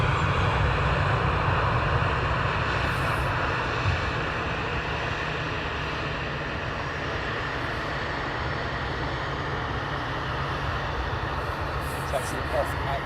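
A jet aircraft taxiing at London Luton Airport gives off a continuous, loud, steady engine roar and whine, with speech heard faintly over it now and then.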